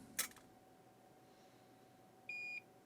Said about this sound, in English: when I pick it up, I just wait for the beep, and it's ready to solder again